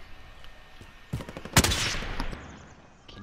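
Gunfire in Call of Duty Warzone: a few scattered shots, then a loud, close burst near the middle that fades into a reverberant tail, with quiet background between.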